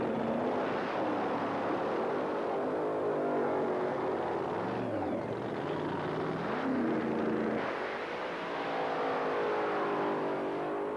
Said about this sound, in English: Tommy Howes, the pilot of the 86 300 ZX Datsun, the quickest car to date in the Wild Bunch.